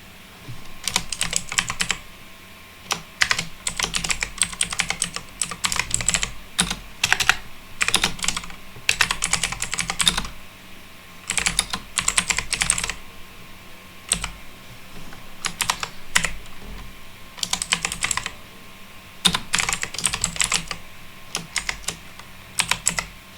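Rapid bursts of typing on a computer keyboard while entering code, close and crisp clicks coming in irregular clusters separated by short pauses, with no voices.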